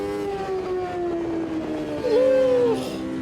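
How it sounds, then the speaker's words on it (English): Race car engine in the Automobilista 2 video game, a steady droning tone that shifts pitch as the throttle lifts, with a brief rising whine near the end. "That throttle off sound is absolutely amazing."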